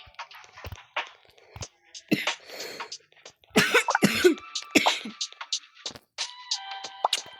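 A character coughs in a Roblox game, rough hacking bursts scattered across several seconds, fairly close and loud with short gaps between fits.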